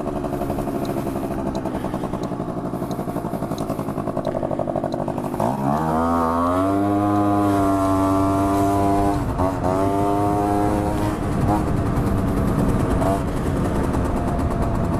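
A small motorbike engine runs steadily close by, its pitch rising sharply as the rider accelerates partway through, then holding a loud, buzzing drone with slight rises and dips on the way to a gas station.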